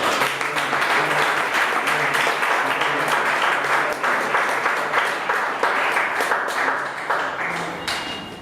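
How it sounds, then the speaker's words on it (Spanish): A church congregation at a Sunday Spanish-language sermon breaks into loud, sustained applause that fills the room, a dense wash of clapping lasting several seconds with a faint voice now and then. "Den un aplauso fuerte."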